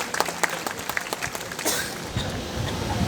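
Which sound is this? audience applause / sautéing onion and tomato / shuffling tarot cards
audience applause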